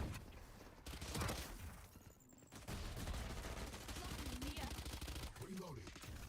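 Gunfire in a spike-mode shooter game: dense, continuous bursts of shots under game noise, with a brief lull before the firing resumes.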